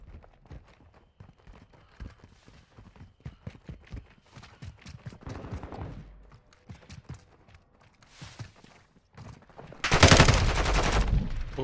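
Rapid bursts of gunfire in Call of Duty: Modern Warfare 2, played in third person during the beta. Clusters of sharp shots crackle throughout and end in a loud, dense volley near the close.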